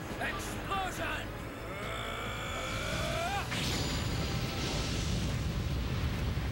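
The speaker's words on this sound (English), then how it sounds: "Explosion!" An Explosion magic attack in The Legend of Dragoon, a rising whooshing build followed by a loud sustained rumbling blast, with a voice speaking over the start.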